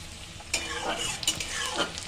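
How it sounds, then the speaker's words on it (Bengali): Onions frying in hot oil until browned with a steady sizzle, broken by occasional scrapes and clinks of a spoon against the pan. "আমি পেঁয়াজটা একটু লাল করে ভেজে নেব।"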